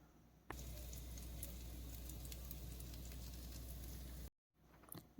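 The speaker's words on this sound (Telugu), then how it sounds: "పెనమును వేడి చేసుకుని దానిపైన పెసరట్టును దోశలాగా వేసుకోవాలి దీనిపైన ఇప్పుడు నెయ్యిని వేసుకుంటే చాలా టేస్ట్గా ఉంటుంది" Pesarattu dosa batter sizzles on a hot griddle with ghee, a steady, close crackling hiss that starts abruptly, runs evenly for several seconds, then cuts off.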